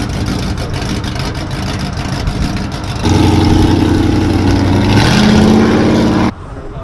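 A car engine at a car meet sits at a rough idle, then steps up into a louder sustained rev that climbs once more before cutting back down, heard close with no talking.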